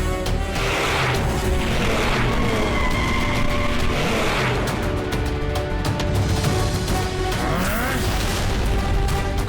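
A cartoon race car speeds up a hill, its engine revving and whining in rising bursts, with skids and whooshes layered over a busy, loud mix.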